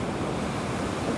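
Ocean surf at Natural Bridges beach, heard as a dense continuous wash of breaking waves mixed with wind buffeting the microphone, steady and fairly loud over a short stretch.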